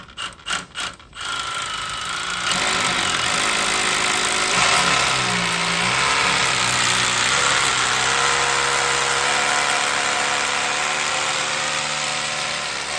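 A power drill whirs steadily at close range for several seconds after a few sharp knocks at the start, its motor pitch wavering slightly, during anchor point testing in Sweden.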